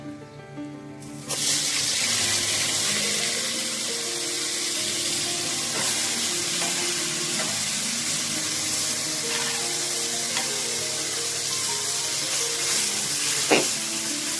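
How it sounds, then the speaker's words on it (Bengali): Mahseer fish frying in a little oil in a pan, a loud, steady, close sizzle that starts abruptly after a quiet second and carries on, with a few faint clinks over it. "অল্প তেল দিব, কারণ আমি তো তেলই ভাজবো।"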